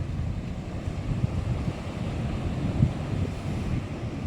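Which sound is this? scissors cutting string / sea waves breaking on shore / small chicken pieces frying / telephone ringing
sea waves breaking on shore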